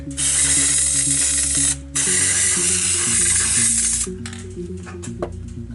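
A spray paint can hisses loudly and steadily over a stencil for a beach lifeguard shack art piece, held slightly higher over the leaf areas, with a short break near two seconds and a fainter tail of spraying and clinks at the end.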